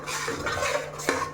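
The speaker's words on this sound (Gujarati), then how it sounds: "બસ આપણે આ રીતે થોડું હલાવવાનું, આ રીતે મિક્સ કરવાનું" A spoon scrapes and clinks in a pan while semolina and gram flour are stirred in hot ghee, a short run of close, steady stirring strokes.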